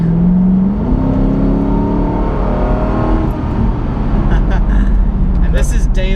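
A 2008 Ford Mustang GT with a 4.6 liter V8 drives along, its steady engine drone and rising rev tones loud throughout while someone talks over it.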